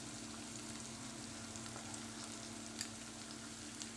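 Ginger garlic paste sizzles in a pan of oil for cabbage sabzi, giving a faint, steady frying hiss with a couple of soft crackles and no talking.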